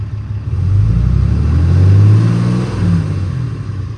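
A 2016 Ram 2500 pickup with the 6.7 Cummins diesel, carrying a turbocharger control module communication fault, idles close by in a low, loud rumble that swells in the middle and then eases slightly.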